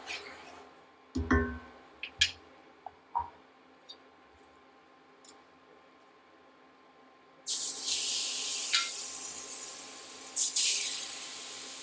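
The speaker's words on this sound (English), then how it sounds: "And sizzle on that" A few scattered clicks and taps, then extra virgin olive oil bursts into a loud, bright sizzle in a frying pan, hissing on steadily and flaring briefly again near the end.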